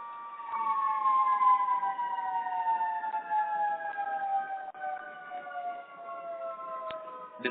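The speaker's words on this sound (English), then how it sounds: "I'm taking a pause because there is a siren going behind." A siren sounds outside behind a quiet indoor setting, its wailing tone sliding slowly downward and holding steady for several seconds at moderate distance, with no one talking.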